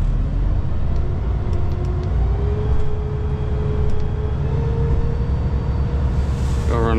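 Diesel engine of a transfer station truck idling with the PTO engaged, a low steady rumble heard alone with a faint tone slowly rising in pitch.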